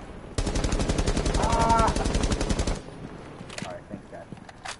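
Rapid automatic gunfire in a multiplayer shooter video game, a dense burst of shots lasting a couple of seconds, then sparse quieter clicks and noises.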